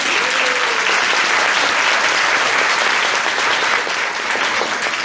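Dense, steady applause from a large audience at a church gathering, many hands clapping at once in a continuous wash with no voices.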